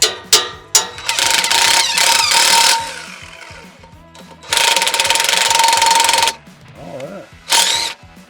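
A DeWalt power tool spins a nut on an old big rig truck, running in loud bursts of several seconds with short pauses between, close up, with a brief spoken word at the start.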